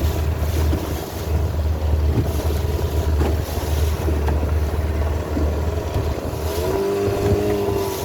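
A Mercury 18 XD outboard engine on a 2007 Smoker Craft boat drones steadily on choppy water, mixed with heavy wind rushing over the microphone, the engine note rising slightly toward the end.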